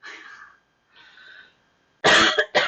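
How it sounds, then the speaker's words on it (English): Two soft, breathy exhales precede a pair of loud, harsh coughs close by, the second one shorter. "I need to get rid of this cough though."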